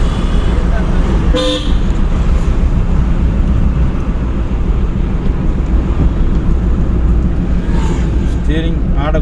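Car horn toots briefly twice during a driving lesson, near and loud over steady road and engine noise, with an instructor talking throughout.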